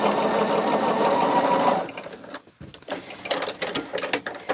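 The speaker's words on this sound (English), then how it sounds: "So we are going to sew this at 1/4 of an inch." A domestic sewing machine stitches a quarter-inch seam on a Poppie Cotton Country Blessings quilt block, running loud and fast in a steady whir for under two seconds before stopping, followed by quieter handling clicks and rustles.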